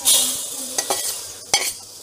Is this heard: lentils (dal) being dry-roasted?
yes